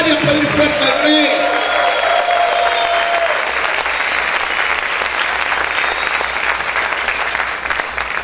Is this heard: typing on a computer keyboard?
no